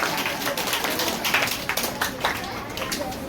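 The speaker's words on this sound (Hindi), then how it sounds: "एक बार फिर से जोरदार ताली" Applause for a speech at a KD Kids Coaching Centre Independence Day celebration: dense, steady clapping from a crowd of children and adults that fills the whole stretch at moderate loudness, with no voice standing out.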